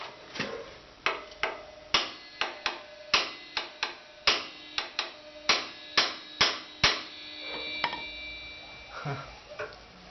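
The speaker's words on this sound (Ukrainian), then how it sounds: "Візьму молоток і попробую її відбити ось сюди." A hammer strikes a metal brake lever on an Alpha moped again and again, roughly sixteen sharp ringing knocks in an uneven rhythm, close and loud, then a quieter shuffle.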